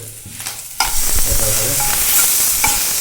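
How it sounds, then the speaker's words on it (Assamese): Pork fat dry frying in a pan without any oil, sizzling loudly and steadily from the moment it hits the heat, with stirring scrapes along the way. "এতিয়া আমি অইল নিদিয়াকৈ ডাইৰেক্ট চৰ্বিটো ভাজি দিছোঁ"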